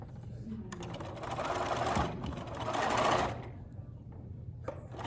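A sewing machine stitching a fabric Christmas tree ornament, running in two bursts of rapid whirring as it sews forward and back tacks, close and clear, with quieter pauses between.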